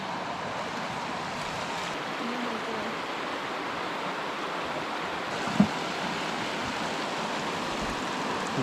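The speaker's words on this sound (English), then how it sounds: "So let's check out the river." A river flowing in a Kenyan national park, a steady broadband wash of moving water that holds constant throughout, with one brief knock partway through and no voices.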